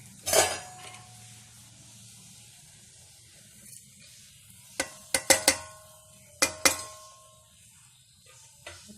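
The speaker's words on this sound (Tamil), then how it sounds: "இப்போ நல்லா ஃபுல்லாக மிக்ஸ் பண்ணி வச்சுட்டா நமக்கு ஸ்டஃபிங் ரெடி ஆகிடும்" Vegetable and mint stuffing for paratha being mixed in a metal bowl, heard as sparse sharp clinks and scrapes of a spoon against the vessel, clustered in quick bursts over quiet background.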